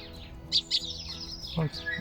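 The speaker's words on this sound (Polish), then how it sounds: "O, drugi wróbel." Sparrow chirping nearby outdoors: a few sharp, separate chirps followed by a softer, twittering call, over a quiet background, with a brief voice heard in the middle.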